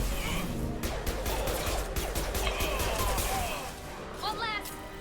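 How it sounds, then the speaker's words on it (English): A concussive shot fired during combat in Mass Effect 2 on PC, heard as loud bursts of gunfire and crashing impacts with voices shouting over the action. "Firing concussive shot!"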